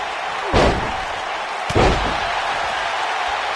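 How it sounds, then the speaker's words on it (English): Two heavy thuds from a wrestling takedown slam in the video game WWE 2K19, each a sharp impact with a short rumbling decay, spaced about a second apart over steady crowd-like background noise. "Nice takedown of Daniel."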